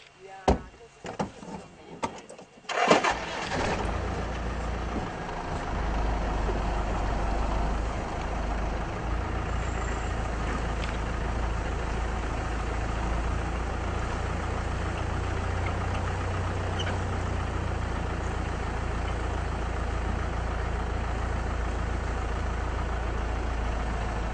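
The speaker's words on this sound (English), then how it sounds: "Slowly they're getting used to the sound of the vehicles." Vehicle engine cranks and starts after a few clunks and bumps, then settles into a steady low idling rumble that continues alone for the rest of the time, heard up close.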